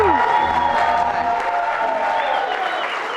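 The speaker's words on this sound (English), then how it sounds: "oh, we got applause" Live studio audience at a show applauding loudly with cheering and whoops, a dense crowd roar that holds steady and fades slightly toward the end while a voice briefly calls out.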